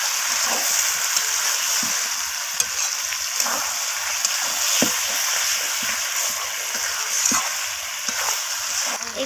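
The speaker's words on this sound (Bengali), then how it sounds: "ধনিয়া পাতাটা দিয়ে আমি আবারও কষিয়ে নিচ্ছি" Chicken stir-frying with chopped coriander leaves in a pan, heard as a steady close sizzle with a continuous hiss and a light scraping stir beneath it, no talk.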